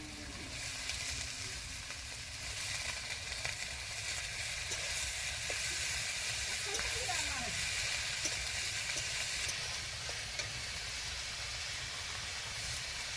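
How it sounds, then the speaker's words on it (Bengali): Chopped cabbage sizzles and hisses steadily in a hot frying pan for cabbage cooked with fish head, with faint scraping and stirring clatter under the continuous frying noise and no talking. "এরপর আমি বাঁধাকপিটা যে কেটে ধুয়ে রেখেছিলাম এটা দিয়ে দিই।"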